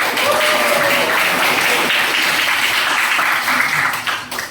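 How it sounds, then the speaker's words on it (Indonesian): Applause from an audience at a university talk, a dense continuous wash of clapping that holds steady and then fades toward the end. "Tepuk tangan"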